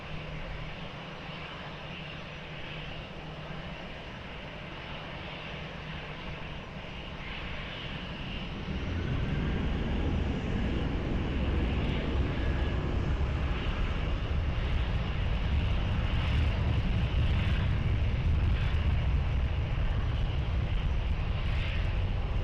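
An airplane takes off from runway 20 at Lisbon Airport. Its engine noise starts as a low, distant rumble, then swells about halfway through into a loud, steady broadband roar that holds to the end, with no talking.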